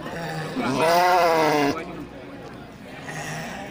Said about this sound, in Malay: 2 ekor domba jantan ya